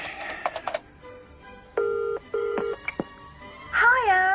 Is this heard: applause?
no